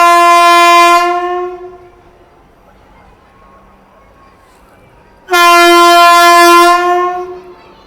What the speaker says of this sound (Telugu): ట్రైన్ అయితే డిపార్ట్ అవుతుంది.